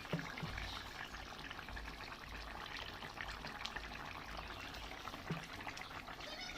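Mustard oil poured into a simmering fish and brinjal curry near the end of cooking, a soft continuous trickle and low sizzle running steadily throughout at fairly low level, with no talking.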